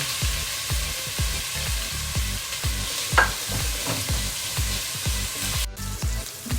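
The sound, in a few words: onion frying in pan with garlic ginger paste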